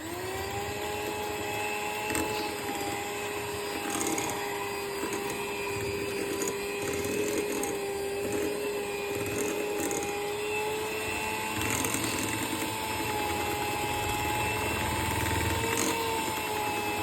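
An electric beater creams butter and sugar for a simple tea cake. Its motor gives a continuous, steady whine with a rough mechanical undertone, fairly loud and close, with no talk.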